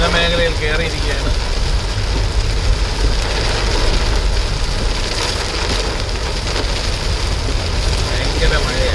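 Heavy rain pounding on a car driving through a forest area, a dense, steady hiss and patter heard from inside the cabin, loud and unbroken, with the engine humming low beneath it.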